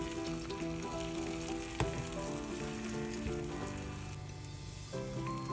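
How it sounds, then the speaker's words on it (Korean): Beaten egg poured into a hot oiled pan sizzles steadily for an omelette roll in a Korean kitchen, a constant close crackle with a brief clink of a utensil partway through. "달군 팬에 기름을 두르고 계란물의 3분의 1 정도를 부어줍니다."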